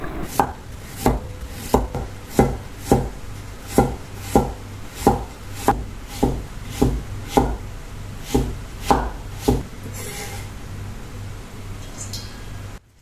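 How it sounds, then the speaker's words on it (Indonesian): A knife chops carrot into small pieces on a cutting board for homemade kimchi, giving about fifteen sharp, evenly spaced close thuds. The chopping stops near the end, leaving a faint hum. "Wortelnya juga sama, dipotong kecil-kecil juga"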